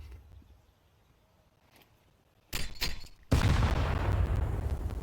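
A grenade goes off during an esports match in a video game, a sudden loud blast after a quiet stretch with a few sharp shots just before it, followed by a sustained rumbling roar.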